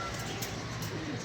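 Pigeons coo softly at a distance over a steady background hiss, the low calls faint and blended together.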